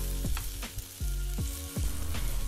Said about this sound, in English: In a pan, add a little bit of oil and some chopped up spring onions